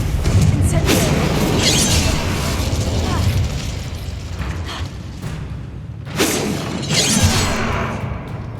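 Fiery spell blasts from the video game Hogwarts Legacy boom and burst in a dense, loud run, with two sharper cracks standing out near the middle and toward the end.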